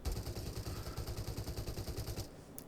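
Quiet, rapid gunfire from a shooter video game, a steady run of low thumping shots for a couple of seconds before it cuts off.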